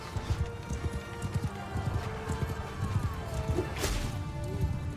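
Horses gallop with steady clip-clop hoofbeats and an occasional neigh amid a busy cavalry battle in the Mount & Blade II Bannerlord video game, the hooves loud and continuous throughout.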